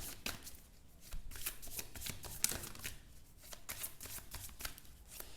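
Tarot cards shuffled by hand during a reading: a steady run of soft riffling and flicking bursts, fairly close and quiet, with a card drawn near the middle and no talk.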